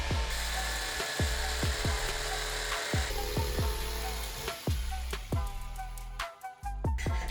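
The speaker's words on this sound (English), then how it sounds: "I use jigsaw to cut out the middle part." Jigsaw cutting out the middle section of a workpiece while making a Zippo lighter pouch, a steady buzzing saw drone with a series of regular sharp strokes and knocks, close and fairly loud with no talk.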